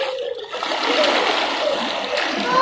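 Water splashing and churning steadily as a child swims, with the noise continuous and fairly close.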